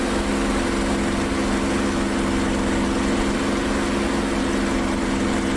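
Steady drone of an F6F Hellcat's radial piston engine throttled back in a DCS World dogfight, a constant low hum with even harmonic bands and no break over the whole stretch.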